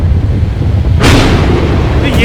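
A sudden loud crack and roar of thunder bursts in about a second in, rumbling on through the rest of the lightning storm, with a second sharp burst near the end over a steady low background.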